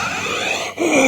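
A Darth Vader-like voice processed through a 1975 Eventide flanger, a short loud burst of swooshing, sweeping comb-filtered tone with a brief dip before it resumes.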